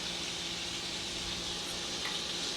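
Half an onion sizzles in unsalted butter over medium-high heat, a soft, steady hiss that holds evenly throughout and stays fairly faint, with no voices.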